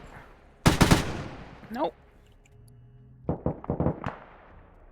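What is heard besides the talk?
gunshots exchanged in video game Arma 3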